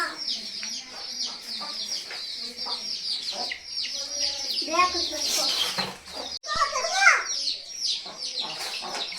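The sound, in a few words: chickens clucking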